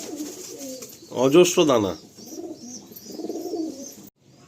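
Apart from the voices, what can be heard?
pigeons cooing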